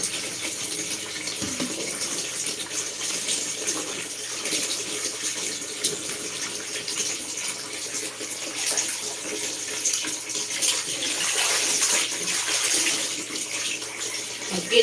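Water runs steadily from a tap into a basin of laundry set to soak with detergent, a continuous gushing and splashing that stays close and fairly loud throughout, with no talk over it.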